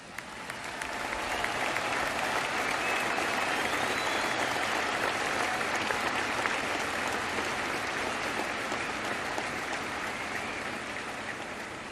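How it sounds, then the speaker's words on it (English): Long, sustained applause from a large audience at Lou Whitaker's jersey retirement ceremony, honoring Mrs. Ilyich, a dense steady patter of clapping that fills the space at even loudness for the whole stretch. "I would like all of you to give her a long applause."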